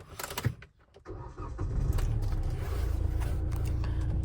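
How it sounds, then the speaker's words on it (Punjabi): A Hyundai i20 car engine cranks over near the start, catches after a short pause and then settles into a steady, even idle heard from inside the car. "ਇੰਜਨ ਦਾ ਸਾਊਂਡ ਬਹੁਤ ਸੋਹਣਾ ਸਾਊਂਡ ਹੈ ਜੀ ਇੰਜਨ ਦਾ"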